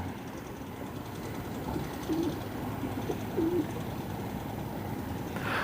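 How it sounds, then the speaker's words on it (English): Pigeon or dove cooing softly a few times near its nest on an Australian rock wall, set against steady low outdoor rumble with a train-like drone throughout. "I think this bird's got a nest here"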